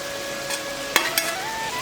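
Fried fish is folded into vegetables simmering in a pan for a Bengali tinkata fish chochchori, producing a soft steady sizzle with a couple of sharp spatula scrapes and a faint tonal hum underneath.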